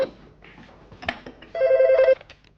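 A telephone rings once with a short electronic trill, close and clear, after a few quiet clicks and rustles.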